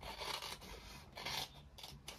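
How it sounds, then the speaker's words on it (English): Scissors trim paper for a hexagonal pocket-twist ephemera craft piece, giving a close, steady run of crisp rasping snips in quick repeated strokes, with no talking. "let's just cut that off quickly with our scissors"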